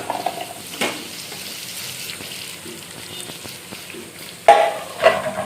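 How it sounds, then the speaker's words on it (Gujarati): Potatoes go into a pan of spiced masala and start frying, giving a steady close sizzle with a few sharper bursts as they hit the hot oil. "મસાલો મેં કરી લીધો હવે આપણે એમાં નાખી દઈશું બટેકા"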